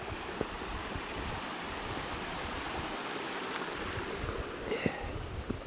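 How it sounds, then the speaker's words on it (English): Steady broadband rush of mountain creeks and a small waterfall fed by melting snow along a high alpine trail, continuous and close with a few faint knocks, no voices. "All kinds of these little creeks, waterfall."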